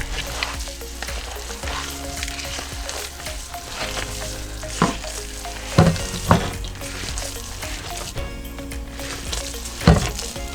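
Ground meat and rice being mixed in a pan, a steady frying sizzle with a few sharp scraping knocks of the spoon against the pan, moderately close, with no talk.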